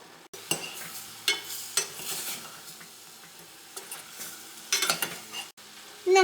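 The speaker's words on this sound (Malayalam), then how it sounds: "ഇത് നമുക്കൊന്ന് ഇളക്കിയിട്ട് കൊടുക്കാം." A utensil stirs chicken boiling in a pan, with scattered scraping strokes against the metal over a steady bubbling sizzle, close and moderately loud.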